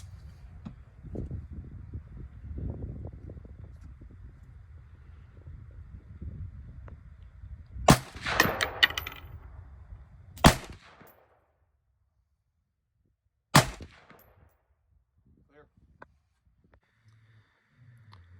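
Three sharp, loud rifle shots in 5.56 from a Springfield Hellion with a 16-inch barrel and 1-in-7 twist crack out several seconds apart at an outdoor range, after a stretch of low wind rumble and handling noise.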